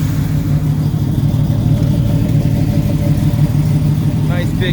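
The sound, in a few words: 1972 Chevrolet C10 383 stroker engine revving, Holley carburetor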